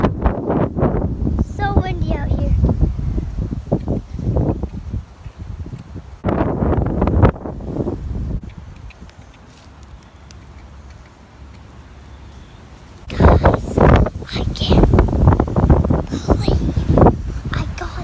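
Strong gusts from Hurricane Irma at Disney World buffet the microphone with low rumbling wind noise, broken up by stretches where people speak nearby over it.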